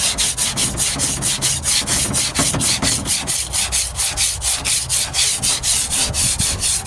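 Coarse 40 grit sandpaper rubbing Bondo body filler on a rust-repaired 1998 Ford Ranger tailgate, heard as steady, close, loud rhythmic back-and-forth scraping strokes about twice per second, with no talking.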